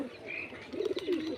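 A teddy pigeon cross gives a short, close, soft coo, a low throaty warble that rises toward the end and is heard alone.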